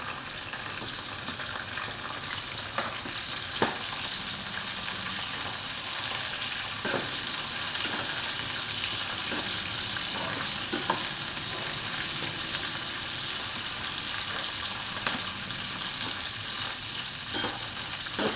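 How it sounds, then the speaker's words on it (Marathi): Okra frying in a pan for masala bhindi, a continuous dense sizzle and crackle with occasional scraping stirs and clinks, close up and steady throughout, no voices. "भेंडी जरा फ्राय करून घेतली"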